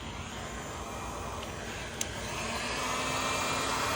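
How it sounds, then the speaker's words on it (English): Heat gun blowing a steady, loud rush of air over an abstract acrylic paint pour, growing slightly stronger partway through, with one brief click and no speech. "What I might do is actually get the heat gun"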